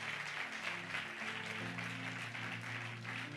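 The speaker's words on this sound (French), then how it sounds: "Acclame très fort." Church congregation applauding during a sermon, a steady sustained patter of many hands clapping throughout, moderately distant and even.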